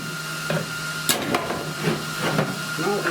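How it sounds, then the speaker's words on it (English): Welding metal while fabricating a bucket seat mounting bracket for a 1970 Buick Wildcat restoration: a steady close crackling hiss broken by several sharp pops and bursts, with no talking. "It's going to be a big old ugly weld right there starting off"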